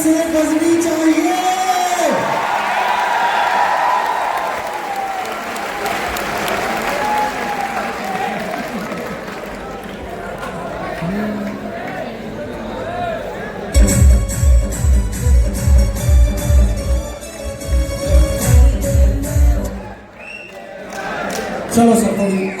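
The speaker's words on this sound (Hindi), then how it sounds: "हजारों तालियां बहुत जोर से बजनी चाहिए।" Loud, sustained audience applause with whoops and shouts fills a hall at the Harendra Classes champions felicitation ceremony, swelling into rhythmic clapping in bursts with voices mixed in.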